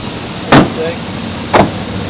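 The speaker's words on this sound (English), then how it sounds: "let me go ahead and pop the hood for you guys" The hood release of a Chevrolet Silverado SS pickup with a 6.0 V8 is pulled, giving two short, sharp clunks about a second apart against a low steady background hum, close and fairly loud.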